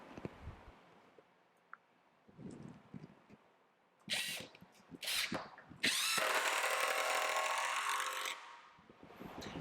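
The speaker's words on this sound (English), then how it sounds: "So I'll put in 2 more of these screws." A power drill drives screws into 2x8 lumber for a trailer brace, with a few short whirring bursts followed by one longer, loud sustained run of the motor, close by, with quiet handling noises in between.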